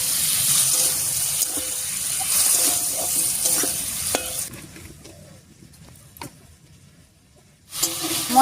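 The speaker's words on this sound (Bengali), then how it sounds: "এবারে কষিয়ে নেব।" Spice paste with potato and pumpkin stems sautéed and stirred for a light fish curry, a steady close sizzle with scraping strokes that fades to quiet near the end before a final burst of stirring.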